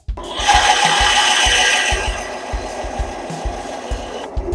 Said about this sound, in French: Et on va le scier à la bonne taille.